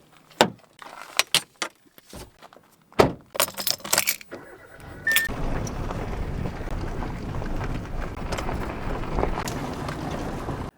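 A car near an abandoned warehouse: a few door and key clunks first, then a steady, fairly loud engine and road rumble as it drives off and keeps going, with some wind noise.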